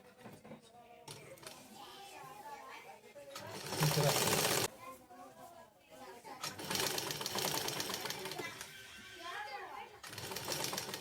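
A sewing machine stitches fabric with a lining attached, in close, loud runs of rapid whirring broken by short pauses. A person talks between and over the bursts.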